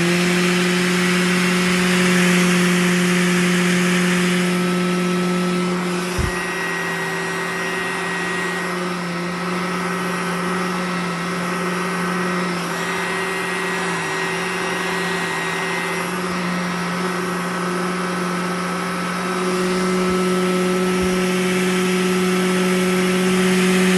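A VacLife VL726 portable vacuum with its motorized roller attached runs steadily and loudly, a constant whining motor drone with a couple of brief knocks partway through, no talking.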